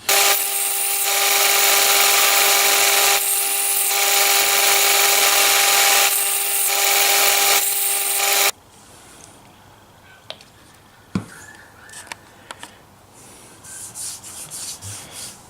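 A 24mm chisel is sharpened on a 140 grit plate: loud, continuous abrasive rubbing in long strokes for several seconds, then quieter scattered scrapes and clicks.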